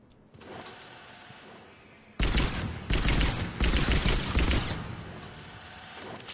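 An Eagle pistol firing in bursts in Mass Effect 3, coming in after a quiet stretch as loud clustered volleys of sharp shots, several groups in quick succession.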